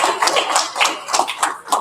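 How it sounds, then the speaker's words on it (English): Audience at a membership meeting clapping after presentations, a short, fairly close burst of scattered claps with uneven peaks. "Thank you to Jerry, thank you to Daniela for their great presentations. Round of applause."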